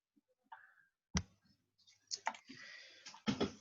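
Typing on a wireless computer keyboard, heard as a few sharp clicks and short bursts of keystrokes, close and fairly quiet in an otherwise still room.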